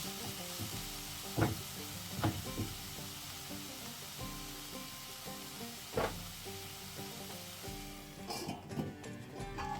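Pieces of elephant foot yam (suran) frying in hot oil, a steady soft sizzle interrupted every few seconds by a stirring clatter of a spoon in the pan.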